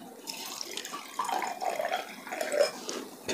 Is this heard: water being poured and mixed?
yes